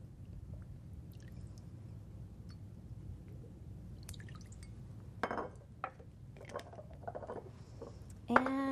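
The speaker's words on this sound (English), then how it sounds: "So first I'm going to use 2 tablespoons of the rice vinegar." Rice vinegar is poured from a tablespoon into a glass bowl for a black bean salad dressing, giving faint drips and liquid splashes followed by a few brief clinks against quiet room noise.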